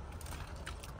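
Keys for a 2022 Toyota Camry Hybrid Ascent jingle faintly in a quick brief rattle, close but quiet over low background hum.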